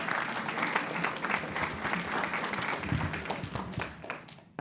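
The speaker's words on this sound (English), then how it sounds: "So we can do an early round of applause for Ms." An audience at a school board meeting gives a sustained round of applause, dense clapping filling the room at an even level before tapering off at the end, with faint voices mixed in.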